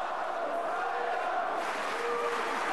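A boxing arena crowd chants a fighter's name, Markus Beyer, during a WBC super middleweight title fight in Australia, as a broad, steady roar of many voices. It sounds somewhat distant and continuous, with faint commentary mixed in.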